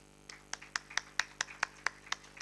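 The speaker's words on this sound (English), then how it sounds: "we should clap for the demonstrator team" A small audience at an Indian Society for the Study of Pain surgical demonstration claps for the demonstrator team: a dozen or so sharp, separate hand claps in a loose, uneven rhythm, fairly faint and with no talking.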